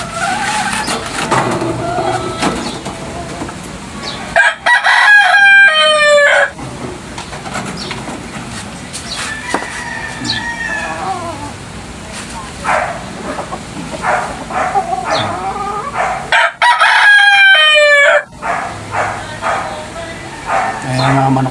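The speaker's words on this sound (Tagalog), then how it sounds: "Ayan mga manok dyan." Roosters crow loudly twice amid a noisy yard of chickens, with someone talking throughout and other animal sounds around.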